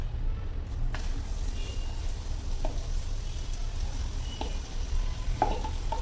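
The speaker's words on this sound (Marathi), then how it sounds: "आणि हे आपण वाटून घेतलेली डाळ आता मी या फोडणीमध्ये घालणार आहे." Ground dal goes into hot tempering and fries over a medium flame, producing a steady low sizzle and hiss with a few sharp scraping stirs spaced through it and no speech.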